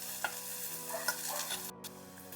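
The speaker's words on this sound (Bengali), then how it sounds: "এখন আলুটা আমি একটা মেশার দিয়ে একদম ভালো করে ম্যাশ করে নেব" Boiled potato being mashed with a masher for a Bengali egg curry, a steady soft stirring and squishing with a few light knocks, near and moderately quiet under a faint musical background.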